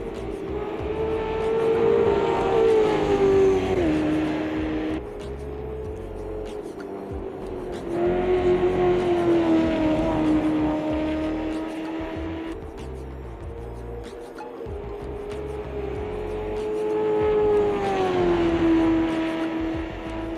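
A race car in the sim racing game Automobilista 2 rolling out of the pit lane, its engine droning steadily in long rising and falling waves, loud and continuous with no talk over it.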